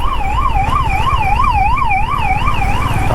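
An ambulance siren wails close by, in a steady rising-and-falling rhythm, over the low rumble of traffic.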